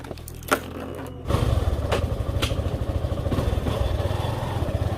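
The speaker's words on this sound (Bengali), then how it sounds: "এই আমার বাইকও রেডি, হেলমেটটা পরে নিই, তারপর বার হওয়া যাক।" A motorcycle starts up and pulls away, its engine settling into a steady, fairly loud rumble after a brief click and clatter, with no voices over it.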